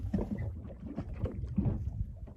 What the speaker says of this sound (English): Just the sound of water slapping against the hull of the boat.